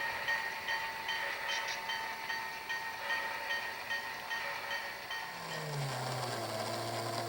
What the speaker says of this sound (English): Nickel Plate Road GP9 number 514 rides the turntable first and heads into the yard